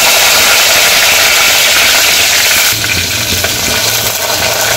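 Green chillies drop into browned ginger garlic paste in a loud, dense frying hiss for a jackfruit bhaji, the roar easing slightly partway through, with a low steady hum underneath and no talking.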